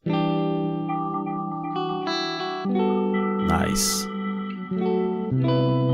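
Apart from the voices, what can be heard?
reverb effect plugin on audio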